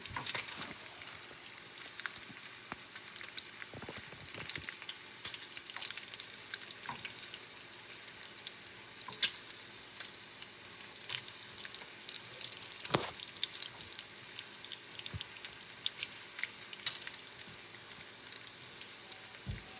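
Frozen bacon frying in a pan, a steady broadband sizzle and crackle with scattered sharp pops, fairly close and continuous throughout, growing slightly brighter after the first few seconds.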